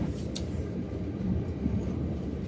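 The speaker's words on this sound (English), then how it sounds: "clearly I'm on a train" Steady, close rumble inside a moving train carriage in London, a continuous low roar with even loudness throughout and no clear talk.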